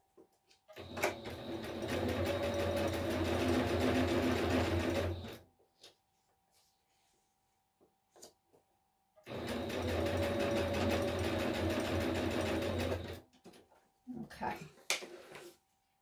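A sewing machine runs in two long, steady bursts of rapid stitching, close by, separated by a quiet pause with small clicks and handling sounds.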